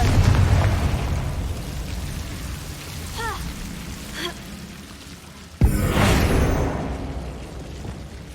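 A Confringo spell goes off in Hogwarts Legacy with a sudden loud blast partway through, followed by a rushing, crackling burst, set against a steady rain-like wash with a few chiming spell tones before it.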